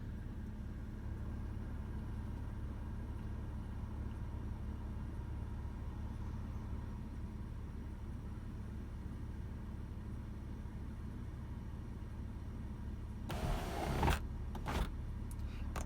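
A BMW sunroof gives a short mechanical confirmation sound after being reprogrammed. A steady low cabin hum runs throughout, then a brief sharp burst comes near the end, followed by a second quicker blip.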